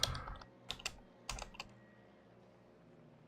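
Quick bursts of keystrokes on a computer keyboard, a few clustered clicks spread over the first second and a half, then quiet.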